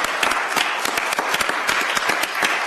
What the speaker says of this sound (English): I'm going to applaud.